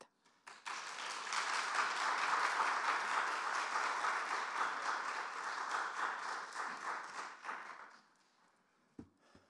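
A church youth worship congregation applauds to welcome a guest preacher, with dense, steady clapping that swells and holds for about seven seconds before tapering off into near silence.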